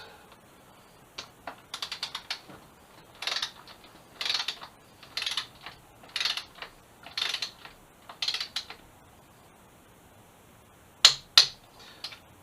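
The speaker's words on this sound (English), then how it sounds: "So we're just going to torque in this side quick." A torque wrench tightens a seat rail bolt on a 2007 Suzuki GSX-R 750. It gives a regular series of short ratcheting clicks, close and quiet, ending with two sharper clicks as it reaches torque.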